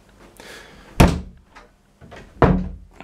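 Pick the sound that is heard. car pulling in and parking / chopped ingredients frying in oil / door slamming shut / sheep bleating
door slamming shut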